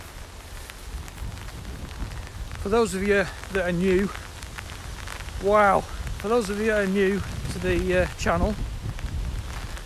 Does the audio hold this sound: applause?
no